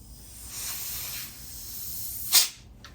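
Compressed air hisses out of a leaking radiator pressurised through a compressor fitting, a soft steady spray rising and fading before one sharp, louder burst near the end, with no talking.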